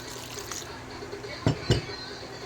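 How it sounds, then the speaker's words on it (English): Water is added a little at a time and mixed into pholourie batter, giving soft wet stirring with two sharp clinks of a utensil against the bowl near the end. "adding water a little at a time. And you're mixing."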